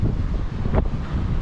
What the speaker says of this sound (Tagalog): Alon, hangin lang.